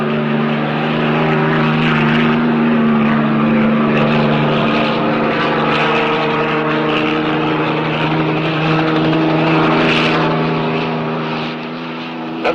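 A police highway patrol helicopter flies overhead during a hostage pursuit, its engine and rotors producing a loud, sustained droning hum with steady tonal layers that holds throughout.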